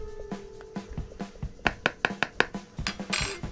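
Salt and baking powder being mixed in a bowl: a utensil scrapes and taps against the bowl in an uneven run of sharp clinks that grow busier toward the end, close by and with no talking.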